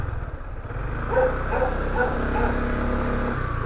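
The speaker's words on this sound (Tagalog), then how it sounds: "Lahat ng napupunta natin may aso." A few dog barks ring out at a moderate distance over steady outdoor background noise in light rain, with traffic rumbling underneath.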